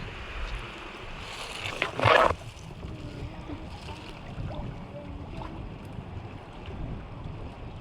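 Strong wind roars and buffets against the microphone in steady gusts outdoors, with a brief louder thump partway through.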